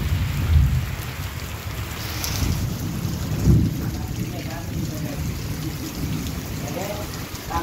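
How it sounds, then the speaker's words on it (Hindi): Heavy rain pours down steadily during a night-long thunderstorm, with low rumbles of thunder rolling through and faint voices underneath. "लेकिन फिर भी बारिश हो रही है"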